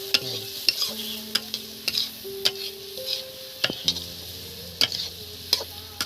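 Onions, with eggplant, stirred and frying in a pan for a Bengali chicken pota dish, with repeated sharp scrapes and clinks of the spatula over a soft, steady sizzle.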